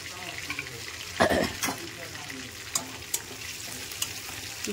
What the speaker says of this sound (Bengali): এই তেলেতে আমি ফোড়ন দিয়ে দেবো তেজপাতা, এলাচ, লবঙ্গ, দারচিনি আর শুকনো লঙ্কা আর 5 ফোড়ন